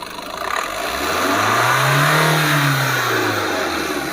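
An overhauled Tata Nexon engine revs up as the accelerator is pressed, rising to a held peak and then easing back down, loud and close in a workshop.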